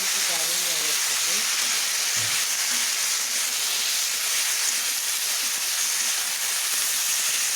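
Bathua greens frying in a pan for a Bengali saag dish, a steady broadband sizzle and hiss that holds evenly throughout, with a faint voice murmuring low in the background early on.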